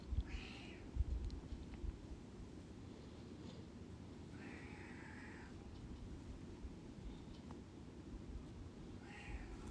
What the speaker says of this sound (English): You probably hear my cat. She wants attention.